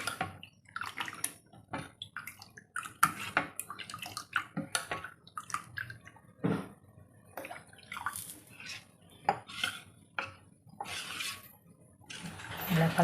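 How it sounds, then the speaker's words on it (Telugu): Water poured and stirred into ragi flour dosa batter in a bowl, heard as close, intermittent splashing and sloshing with clinks of a utensil against the vessel, fairly quiet overall. "నీళ్ళు పోసేసుకుందాం"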